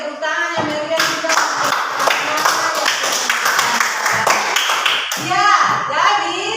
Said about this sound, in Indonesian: Oke, tepuk tangan yang meriah juga.